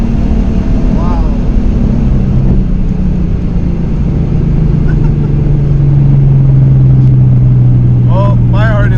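A Procharged 2014 V6 Mustang accelerates hard with short shifts, a loud continuous engine drone shifting pitch with each gear change, heard from inside the car, with voices and shouts over it.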